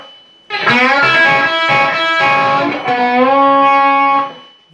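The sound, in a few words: electric guitar playing a riff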